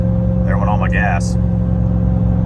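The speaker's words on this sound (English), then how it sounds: "I hope you can hear that supercharger." Supercharged work truck engine running, a steady low rumble and hum held throughout, with a brief voice partway through.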